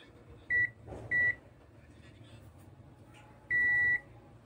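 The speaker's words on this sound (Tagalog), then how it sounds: "Gawin natin sa buzzer sound." A multimeter in continuity mode beeps as it tests connections on a corroded GALAX GTX 1050 Ti 4GB graphics card: two short beeps, then a longer one after a pause, with faint background noise.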